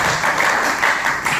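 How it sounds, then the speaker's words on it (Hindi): An audience breaks into steady, fairly loud applause at a talk or seminar, a continuous dense clatter of many hands with no pause. "तालियां बजाइए यार"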